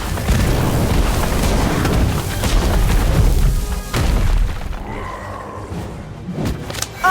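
A fire spell blasting in a Harry Potter video game, a heavy roaring boom of flames and rumble lasting several seconds before fading into quieter crackles and faint tones.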